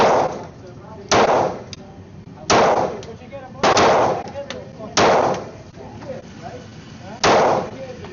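A Glock 23 Gen 3 pistol fires about seven sharp, loud shots at uneven intervals roughly a second apart, each with a short echoing tail outdoors.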